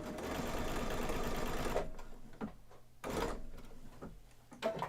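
A sewing machine stitches a fabric treat bag in a close, loud continuous run of nearly two seconds, then starts again in shorter bursts separated by quiet pauses.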